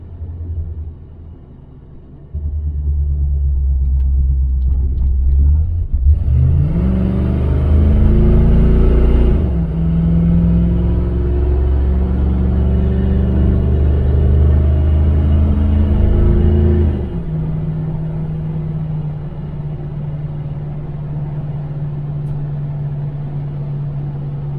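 A 1978 Chevrolet El Camino SS pulls up to speed on the road, its engine rumbling loudly from inside the cab and revving through rising pulls before settling into a steady cruising drone.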